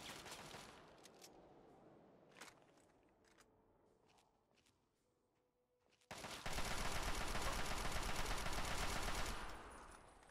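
Gunfire from Fallout 3 opens with a few scattered shots and footsteps. After a quiet lull, a loud, dense burst of automatic fire continues for about three seconds, then trails off.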